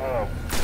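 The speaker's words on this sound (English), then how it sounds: "I'm shooting." Gunfire in the video game Destiny, a short loud burst of shots with a sharp crack near the end, all within under a second.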